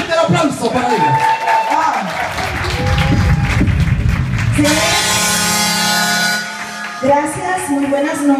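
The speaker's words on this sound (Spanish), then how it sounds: "Fuerte el aplauso para ella" Applause and some cheering rise from a live audience at an evening music event as a singer is introduced, mixed with talk and music that swells partway through.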